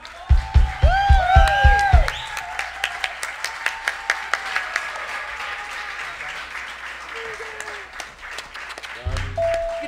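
Studio audience applause for a guest on a talk show, a loud burst of clapping with low thumps at the start that thins into scattered claps over several seconds, with a voice and music-like tones at the end.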